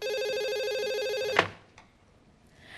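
A mobile phone rings indoors with a steady electronic beeping tone, loud and close, then cuts off abruptly after about a second and a half, leaving quiet room tone.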